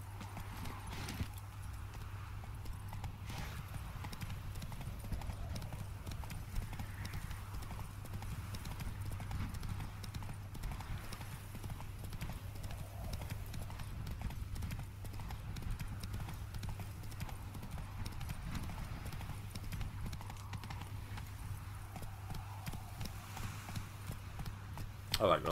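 Horse hooves clip-clop steadily in the video game The Witcher 3 as the horse walks, a continuous even rhythm held fairly quiet under a low hum, with someone talking over it at times.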